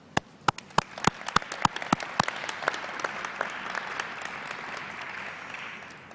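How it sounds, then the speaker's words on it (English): Graduates clapping for themselves at a fall commencement ceremony: a handful of sharp, separate claps at first, then building into softer, scattered applause that sounds spread out and somewhat distant. "So let's take a moment to clap for ourselves."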